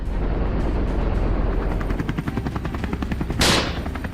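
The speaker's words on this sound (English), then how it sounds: "I raised my rifle and fired." Rapid bursts of rifle gunfire from a helicopter at wild boar crackle over a steady low helicopter rotor drone, with a sharp whooshing burst near the end.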